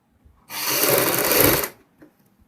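One steady burst of a sewing machine, about a second long, stitches a sleeve onto a kurti, loud and close, with near silence before and after.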